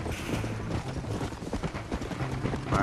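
A horse's hooves clip-clop steadily along the ground in a Western open-world game, a soft, fairly quiet rhythmic patter with no speech.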